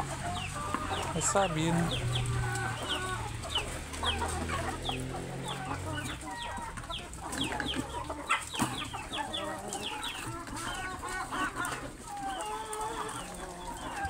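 A flock of chickens clucks and chatters busily at close range while pecking at thrown cabbage, with a quiet voice speaking briefly near the start.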